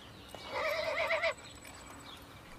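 A horse at the Royal Andalusian School of Equestrian Art in Jerez, southern Spain, gives one clear wavering neigh lasting under a second over a quiet background with faint hoof sounds.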